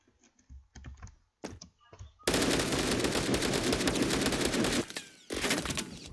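Automatic gunfire in the video game Phantom Forces starts with a few scattered clicks and single shots, then a loud sustained burst of rapid fire runs for over two seconds, pauses briefly and resumes.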